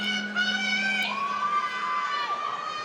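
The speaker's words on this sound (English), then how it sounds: "It is a big crowd." A large packed crowd at an MMA fight night in a Denver hotel ballroom cheers and shouts loudly and continuously, with high excited voices rising and falling over a steady low hum.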